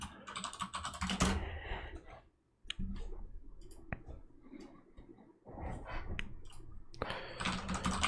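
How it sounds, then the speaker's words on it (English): Computer keyboard typing in bursts of quick clicks, with brief pauses between runs of keystrokes, close and fairly clear. "I'll type in like password and we can encode this."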